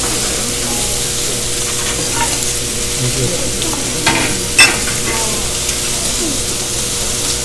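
Mushrooms stir-fry on a hot griddle at a Kobe steakhouse in Japan, a steady broad sizzle with occasional scraping and clinks from utensils, close and loud throughout.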